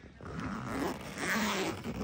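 A zipper on a Realtree Pro 3600 fishing tackle bag is pulled open in a few steady, rasping strokes. It is close and fairly loud, with no one talking.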